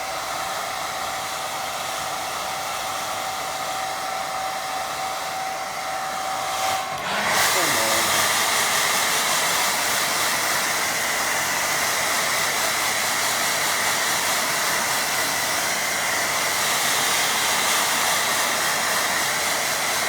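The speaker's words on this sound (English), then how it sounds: "Let it run down a bit more while I'm drying. Gentle dryer." A hair dryer runs steadily while drying a watercolour painting of a river, giving a constant close-up whoosh that changes pitch and gets louder partway through, then continues unbroken.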